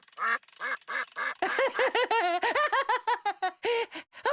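A cartoon duck quacks in a short series of nasal calls, then a faster, louder run of quacks mixed with giggly, laugh-like bursts, clear and close.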